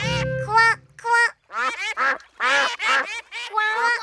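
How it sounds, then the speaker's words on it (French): Cartoon ducks quack repeatedly in a children's animated show, with a bright series of nasal, bouncy calls in quick bursts and short pauses between them, close and clear. "Et voilà les bébés canetons."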